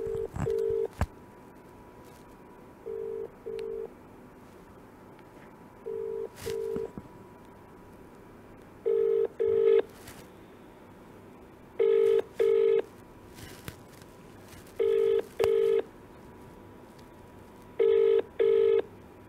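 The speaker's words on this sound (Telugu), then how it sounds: "బిగ్ టీవీ అరియానాకు కూడా కాల్ చేసే ప్రయత్నం చేస్తుంది" A telephone call being placed: bursts of dialing tones, then repeated paired ringback tones at steady intervals, clear and fairly loud, with no talk over them.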